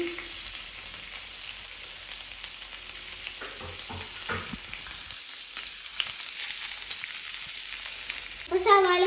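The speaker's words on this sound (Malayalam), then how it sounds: "അപ്പോൾ ഞാൻ ഇതിലേക്ക് സവാളയും കറിവേപ്പില ഇട്ട് കൊടുക്കാൻ പോവാണ് കേട്ടോ." Sliced onions and curry leaves dropped into hot oil for a Kerala chammandi, sizzling and crackling steadily up close, with some stirring clinks and a sharper burst of frying near the end.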